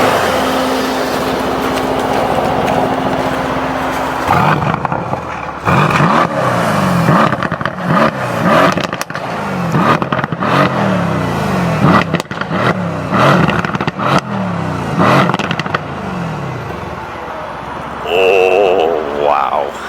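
Mercedes C63 AMG V8 revving hard through repeated bursts with the exhaust valves open, engine note rising and falling close by, brief crackles between pulls and a voice speaking over the engine near the end.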